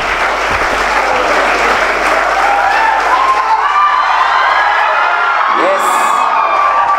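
Sustained audience applause fills a cheque presentation ceremony for a foundation, dense and steady throughout, with scattered whoops and a few voices rising above the clapping.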